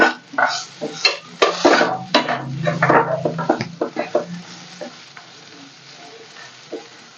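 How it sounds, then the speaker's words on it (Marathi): Asafoetida and turmeric being stirred into hot oil in a pan as part of a chili dish, with a close sizzle broken by a rapid run of spoon scrapes and clinks against the metal that thin out toward the end. "हिंग टाकून घेऊया आणि छान हलवून घेऊया"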